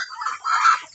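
A just-caught chicken lets out a short, close burst of agitated clucking, about a second long, with no talking.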